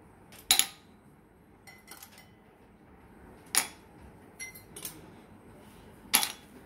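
Ice cubes dropped one by one into a serving glass while making bel juice, three sharp bright clinks with a few softer taps between, close and clear over a quiet kitchen background.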